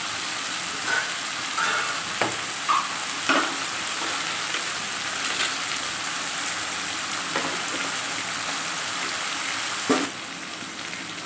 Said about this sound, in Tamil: சிக்கனும் நல்லா வதக்கிக்கலாங்க